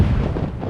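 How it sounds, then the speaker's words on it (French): Cannon salute of thirteen rounds fired at a military ceremony welcoming a new French navy patrol ship in Guadeloupe; a deep, rumbling boom fills the short moment, loud and reverberant with no talk. "Accueilli par 13 coups de canon et une cérémonie militaire en grande pompe"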